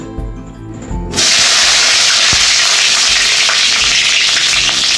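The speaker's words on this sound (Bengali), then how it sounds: "কড়াতে আমি সরষের তেল দিয়ে দিলাম।" Mustard oil hitting a hot kadai erupts into a loud, steady sizzle after a quieter moment, holding a dense, continuous hiss close up with no one talking.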